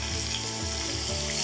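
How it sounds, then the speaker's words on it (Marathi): Onion, garlic, curry leaves, dried red chillies and green chillies sautéing in hot oil, giving a steady close sizzle with soft stirring scrapes that come back at regular intervals, with no one talking. "आणि अर्थातच कांदा छानपैकी आपण परतून घेऊयात सोनेरी रंग."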